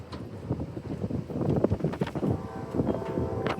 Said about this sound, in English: Lord, it's windy.